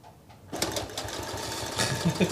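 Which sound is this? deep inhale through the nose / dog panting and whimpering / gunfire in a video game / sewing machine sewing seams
sewing machine sewing seams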